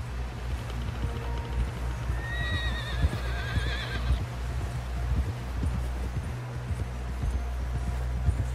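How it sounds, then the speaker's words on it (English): A horse whinnies loudly partway through while steady galloping hoofbeats clop along underneath in Red Dead Redemption 2, a continuous running rhythm with low rumbling ambience. "Someone help John down off this horse."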